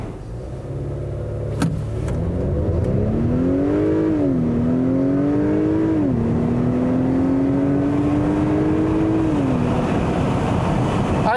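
A 2021 Acura TLX A-Spec launches hard from a standstill, its engine rising in pitch through several gear changes with brief dips between shifts, loud and steady throughout with no talking.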